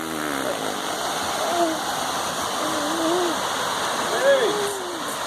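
Waterfall at São Lourenço, a steady broadband rush of falling water heard close, with voices talking intermittently over it.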